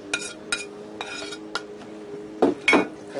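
A whisk or spatula scraping and clinking in a pan of peppers, onion, jalapeno and garlic on a hot stove, a few short metallic taps followed by two louder stirring scrapes near the end.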